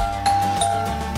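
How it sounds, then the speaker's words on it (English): A doorbell rung at the front door of a family house, giving a short two-note ding-dong chime that rings out clearly and close by. "let me come over and ring the doorbell"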